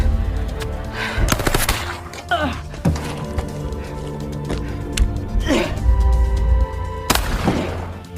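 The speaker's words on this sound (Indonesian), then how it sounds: "Di dalam apartemen, kontak senjata pun tak bisa dihindari karena terus mendapat serangan" Film gunfight inside an apartment: several loud, sharp gunshot bursts and impacts scattered among rumbling action sounds, with voices heard in the mix.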